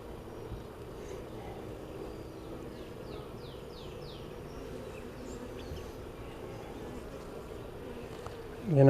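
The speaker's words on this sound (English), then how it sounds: "there's tons of bees up here on the top where they weren't there earlier" Honey bees hum steadily throughout an open-hive inspection outdoors, a dense continuous buzz with brief passes of individual bees flying near, and a louder thump at the very end.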